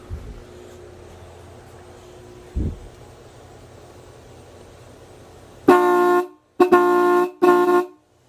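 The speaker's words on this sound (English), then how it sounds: "I'm going to love having these horns on my vehicle" Three loud, blaring blasts from 1940s Mopar dual car horns run on 12 volts, in quick succession, bright and brassy, ringing out after a stretch of quiet background hum.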